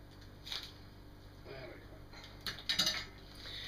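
Eggs are beaten in a bowl with a utensil, making a few light, quiet clinks and scrapes in short irregular bursts.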